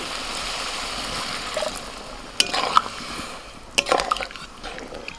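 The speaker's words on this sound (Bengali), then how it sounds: "মটনটাকে আরও সিদ্ধ করার জন্য জল দিচ্ছি" Water poured into mutton cooking in a wok after about half an hour of frying, giving a steady low sizzle with a few brief splashy bursts and stirring clatters near the middle and end.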